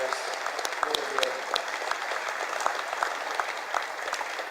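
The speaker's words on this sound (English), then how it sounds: "Let's have a round of applause for all former inductees today." Audience applause for former inductees at a Hall of Fame induction ceremony: steady, dense clapping throughout, with sharper individual claps standing out over the continuous wash of hands.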